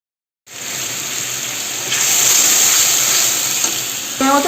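A paste of cumin, chili and ginger hits hot oil and fries with a steady, loud, close hiss that swells slightly midway, with a brief stirring clatter at the end.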